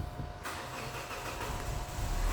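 Petrol fuel-injected car with a faulty in-tank fuel pump cranks with a steady rough churn, then catches and fires into a low running engine rumble, heard up close.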